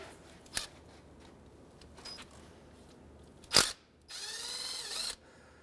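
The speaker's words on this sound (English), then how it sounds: "We'll go ahead and remove that bolt." Ratchet removing a 10mm bolt on a 2003-2011 Honda Element engine, a few brief clicking and whirring bursts, including a sharp loud snap and a longer buzzing spin, heard close in quiet surroundings.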